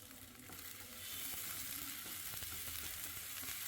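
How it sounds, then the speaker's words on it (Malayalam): Green chillies and ginger sautéing in a hot pan give a steady close sizzle that swells after the first second and keeps crackling evenly, with faint stirring and no voices. "പച്ചമുളകും ചേർത്ത് ഒന്ന് വഴറ്റുക."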